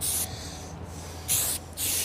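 Three short bursts of spray paint hit a model wind turbine piece, each a sharp close hiss, with quiet gaps between as the piece is turned.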